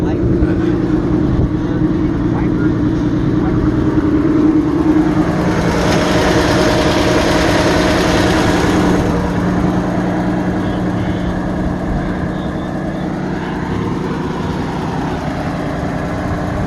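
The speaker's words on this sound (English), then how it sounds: "I hope the sound of this truck will kind of drown out that" A classic truck engine idles close by at an outdoor swap meet for classic cars and trucks, a steady low rumble running the whole time while people talk over it.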